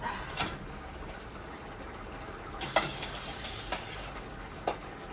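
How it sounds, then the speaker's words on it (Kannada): Soya chunks fry in oil with egg in a pan for soya manchurian, giving a continuous low sizzle. Several sharp scrapes and clinks from stirring stand out, and there is no talking. "ನೀಟಾಗಿ ಫ್ರೈ ಮಾಡಿ ಇದರಲ್ಲಿ ಒಂದು 5 ರಿಂದ 10 ನಿಮಿಷ ಚೆನ್ನಾಗಿ ಬೇಯಿಸೋಣ"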